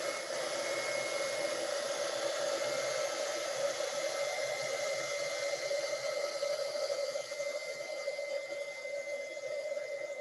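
Heat gun blowing hot air to set wax paper onto a candle, a steady, even hiss and fan whir running unbroken at moderate level throughout.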